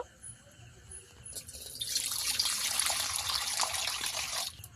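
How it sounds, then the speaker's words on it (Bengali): Water pours steadily into a kadai (wok) for a few seconds, a bright continuous splashing that starts suddenly and stops just as abruptly. "কড়ার মধ্যে একটু জল দিয়ে দেব"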